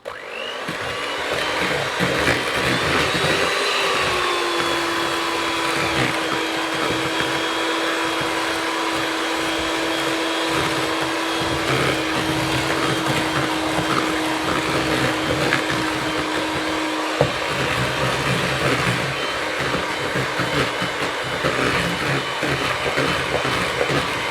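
Electric mixer creaming egg, essence and salt for cookie dough, a steady motor whir with a constant pitch that runs for a long stretch before the tone shifts slightly.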